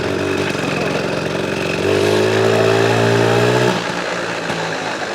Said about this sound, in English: He has to drive the tractor now.